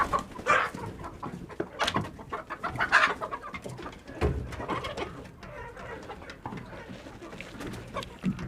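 Chickens let out of their coop in the morning, clucking and cooing in a busy, overlapping flock close by, with scattered louder calls over a steady murmur of birds.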